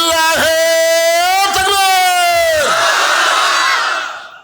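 A large crowd at an outdoor Islamic religious gathering shouts a takbir response in unison, a loud sustained chorus of voices that swells and then breaks into a rough, fading roar.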